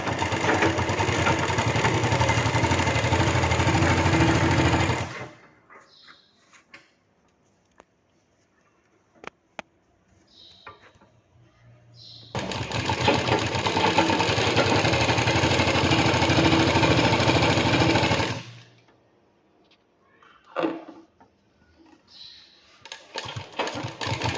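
A sewing machine stitching a blouse runs in two steady, loud whirring bursts of about five seconds each, separated by quiet handling clicks and rustles of fabric.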